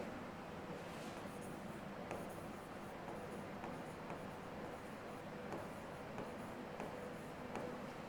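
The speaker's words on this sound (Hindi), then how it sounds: "फिर भी एक बार लिख लेते हैं।" A pen scratching out notes on paper during a tax lecture, faint intermittent scribbles and taps over quiet background hiss.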